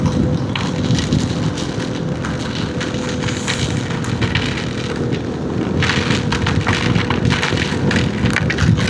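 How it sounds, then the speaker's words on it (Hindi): Heavy rain pours steadily during a motorcycle ride on a road toward Palghar, a dense continuous hiss with wind and engine rumble underneath, swelling louder in the final seconds. "और बारिश बढ़ गया है।"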